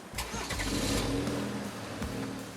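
A 2023 GMC Canyon AT4X pickup with a turbocharged 2.7-liter four-cylinder starts up and revs, giving a loud, slightly coarse engine drone that holds steady before easing back toward idle, close up with no talk.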